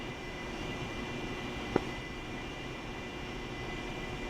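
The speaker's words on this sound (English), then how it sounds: "One is taxiing back to the ramp." A fighter jet taxiing in the DCS World flight simulator gives a steady, moderately loud engine whine and rumble that holds constant, with one brief click partway through.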